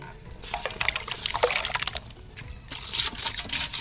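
Muddy small potatoes are scrubbed and rubbed by hand in a vessel of water, giving close splashing, sloshing and trickling with knocks of potatoes against each other and the container.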